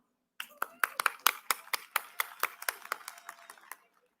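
Audience applause at a charity gala, about three seconds of brisk, moderately close clapping from a modest crowd that starts abruptly and tapers off quickly.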